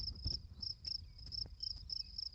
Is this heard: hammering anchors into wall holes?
no